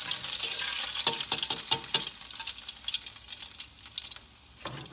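Garlic and onion sizzle and crackle in a hot frying pan, a steady bright hiss broken by sharper pops and stirring scrapes, close up with no talking.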